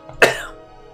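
A single sharp cough from a character in the video game Skyrim, close up, followed by a short fading tail and quiet background tone.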